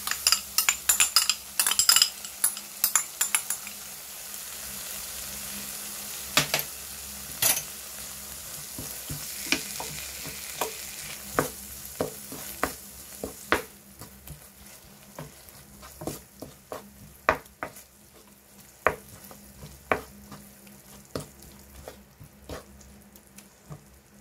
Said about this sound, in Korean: 소스가 바글바글 다 끓었어요.